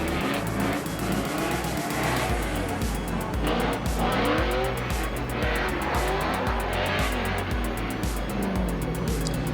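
A drift car at a drifting competition roars past at high speed, its engine loud and sustained, with screeching tyre squeal and skidding throughout.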